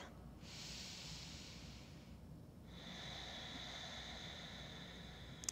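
Slow, audible breaths during a vinyasa yoga class, a hissy inhale-like rush followed by a longer airy exhale, close and steady over a low background hum with no talking.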